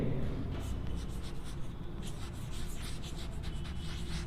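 A pen or chalk scratches continuously across a board in a class 11 English narration lesson, a dense run of close, rapid strokes and taps with no pause.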